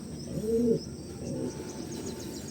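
Breeder pigeons coo inside a pigeon loft, a low rounded call rising near the start and fading into softer, steady murmuring with faint chirps behind.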